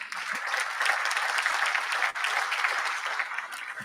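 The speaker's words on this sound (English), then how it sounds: "That deserves a hand clap." A crowd at a celebration of a water pollution control plant's funding claps together, dense and sustained applause close by, dipping briefly midway before continuing.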